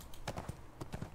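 Horse hooves clip-clop in the online game ArcheAge, a few faint, quick hoofbeats spaced in an uneven rhythm, quiet and fairly close, with no talk over them.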